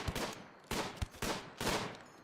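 Bursts of gunfire from the Rimworld colony-sim game as primitive raiders attack, three loud volleys of shots about every 0.8 seconds, each with a sharp onset and a fading tail.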